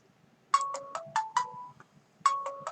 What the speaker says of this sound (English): It's calling me on my phone.